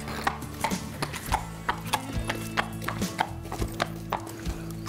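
A started four-year-old sale horse walking, hooves clip-clopping in a steady even rhythm, close and clear over a low background hum with no talk.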